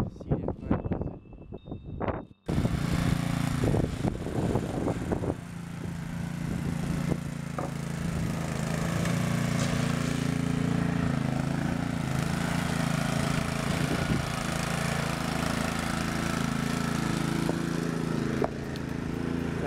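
A thatching machine's engine runs steadily during fall lawn care in Wellesley, Massachusetts, a loud continuous mechanical drone that follows a few brief knocks and rustles, then holds evenly to the end.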